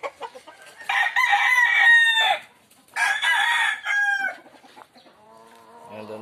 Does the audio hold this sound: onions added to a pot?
no